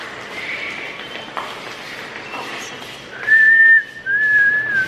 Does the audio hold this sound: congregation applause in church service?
no